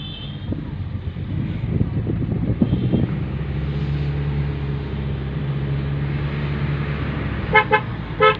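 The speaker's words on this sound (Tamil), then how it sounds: "ஹார்ன் அடி." A car horn gives a few short honks near the end, over the steady rumble of an engine and traffic on a drive in the Kolli Hills, India.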